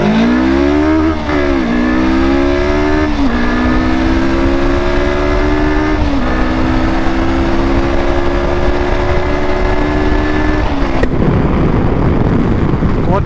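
A 47.6-horsepower vehicle engine accelerating hard, its loud, steady drone climbing in pitch again and again through several gear changes before cutting off abruptly near the end.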